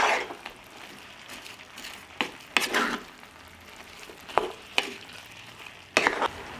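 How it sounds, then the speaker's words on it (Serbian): Vegetables seasoned with sweet ground paprika fry in a pan while being stirred, giving a soft steady sizzle broken by several sharp scraping clatters of the spoon, close up and with no talking. "Sve ću promešati i nastaviti da pržim dok povrće ne omekša."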